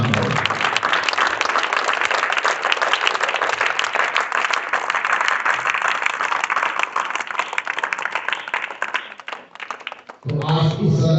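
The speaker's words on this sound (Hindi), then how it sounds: "आप जोरदार तालियों से इस सदन का सम्मान करें।" Loud, sustained applause from a large audience in a hall, continuous clapping that fades and ends near the close, followed by a brief voice.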